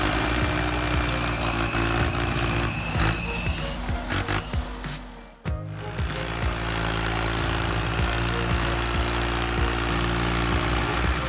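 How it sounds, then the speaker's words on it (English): A Ford 4610 tractor engine runs loud and steady close by, a low rumbling drone that dips briefly near the middle before picking back up, with no voices. "The engine roar feels like a shot of adrenaline"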